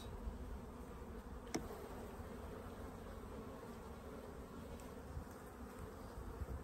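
Honey bees buzz in a steady, continuous hum at the open hive while the queen moves across the comb, with a faint click now and then and no voices.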